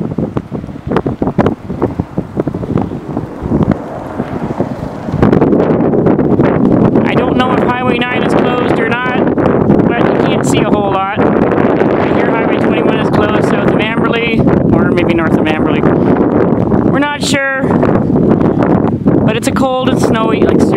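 Strong, cold winter wind with snow blowing across a rural highway intersection, buffeting the microphone in loud continuous gusts while someone talks over it.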